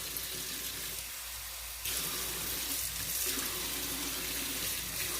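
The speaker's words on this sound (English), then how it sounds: "got half a cup in here, and this water is nice and warm" Warm tap water runs steadily from a faucet into a half cup, a continuous rushing splash that stays close and even, growing slightly brighter partway through.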